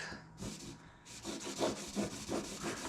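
Rough rubbing strokes sand the sides of a Toyota Prius hybrid battery part, a few short scraping passes in quick succession, close and moderately loud.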